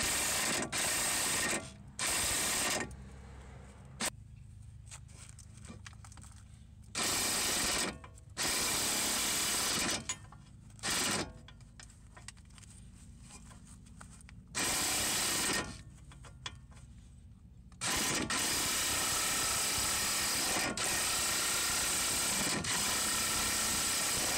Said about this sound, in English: You notice I'm going forward and reverse with the impact.